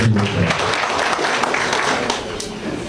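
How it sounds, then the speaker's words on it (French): Applause from the audience at an evening installation ceremony of the Guinean community's new president in Port-Gentil, a steady, dense wash of clapping that carries through the whole stretch with a little voice mixed in. "Monsieur Apollinaire, qu'on peut applaudir ce soir"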